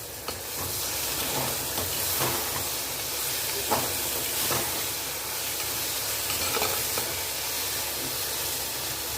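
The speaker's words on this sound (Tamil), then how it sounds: "சுண்டைக்காய் வதங்கி வரட்டும்" Halved turkey berries sautéing in a pan for a Tamil kuzhambu, giving a steady soft sizzle and hiss with occasional stirring scrapes, fairly quiet and continuous without talk.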